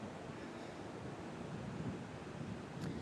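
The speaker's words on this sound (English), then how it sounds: "And Jay, we can hear the wind and obviously see that the rain's happening." Strong hurricane wind roars steadily on the Florida coast during Hurricane Nicole, a dense, even rush of gusting air and buffeting noise on the microphone with no voices.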